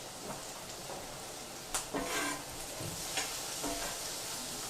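Meat frying in a pan for a leftovers meal, a steady close sizzle with occasional spatters and faint spoon scrapes.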